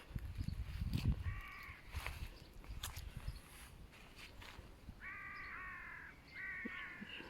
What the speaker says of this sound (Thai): อีกาแถวนี้เยอะเยอะค่ะ